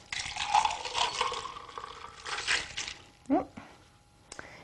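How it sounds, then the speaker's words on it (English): Cocktail poured from a shaker back into a glass, a soft close-up trickle and splash of liquid with light ice clinks, followed by a couple of sharp knocks of the shaker. "And we're going to pour it right back in our glass."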